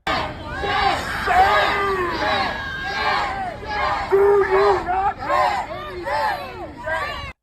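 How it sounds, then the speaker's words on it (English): A large crowd of protesters gathers in a Chicago street after a federal agent shooting, with many overlapping shouting voices, calls and chatter rising and falling in a dense, agitated hubbub. "A large crowd of protesters is quickly forming"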